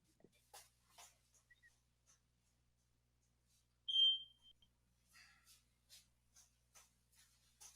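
A smoke detector gives a single short, high-pitched chirp midway through an otherwise quiet room, amid faint scattered clicks and rustles.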